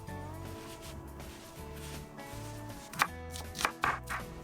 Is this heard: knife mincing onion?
yes